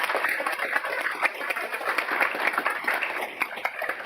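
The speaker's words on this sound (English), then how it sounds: "welcoming back the Amsterdam Orchestra with a big round of applause." A big round of applause welcomes back the Amsterdam Orchestra aboard a cruise ship, dense and continuous clapping from a crowd filling the room, steady throughout with no voices on top.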